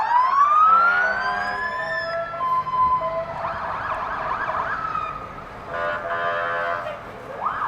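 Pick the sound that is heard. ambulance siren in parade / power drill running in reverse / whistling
ambulance siren in parade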